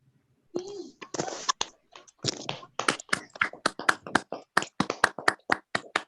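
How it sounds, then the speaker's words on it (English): Sparse handclaps at an online Toastmasters meeting for a first-time icebreaker speaker, a few people clapping unevenly at close range, with some speech at the start. "A round of applause, everyone, for TM Adedoyin."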